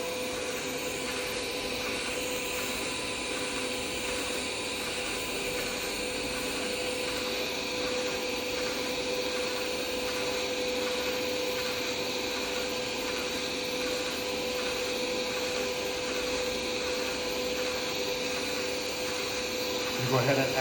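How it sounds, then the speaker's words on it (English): An AMI 227 power supply drives an M79-2375 orbital weld head through a weld, giving a continuous, even mechanical hum and whir that holds steady for about twenty seconds with no breaks. "now we've gone ahead and started our weld"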